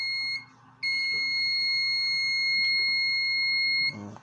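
An overcurrent alarm buzzer on a 400-watt Arduino electronic load sounds a loud, piercing continuous tone that briefly cuts out, then resumes and holds for several seconds before stopping.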